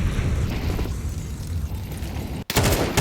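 Dense, overlapping AK and MP9 fire in a Counter-Strike match on the Mirage map, with heavy bursts throughout, a brief cut near the end, then more loud shots.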